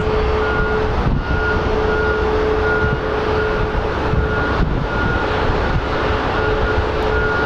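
Embraer Brasilia twin-turboprop airliner at Phoenix Sky Harbor airport, a steady loud engine roar with a constant droning tone held throughout, close and continuous with no talk.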